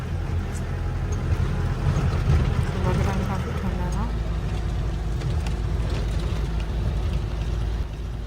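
A Gypsy jeep grinds uphill on an off-road track before sunrise, its engine droning low and steady with rattles and bumps, while people talk over the noise inside.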